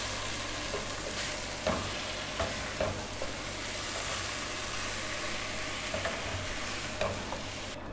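Moong dal with chopped green chilies is stirred in a pan, a soft steady sizzle beneath repeated scraping strokes of a spoon, close and fairly quiet.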